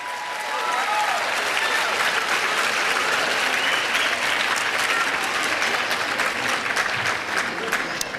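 Sustained applause from an audience at a youth ambassadors for excellence program, a dense steady wash of many hands clapping that holds evenly for several seconds.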